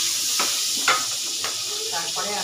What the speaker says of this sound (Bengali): দুটো দারচিনি আর কয়েকটা লবঙ্গ ফোড়নে দিয়ে দিয়েছি।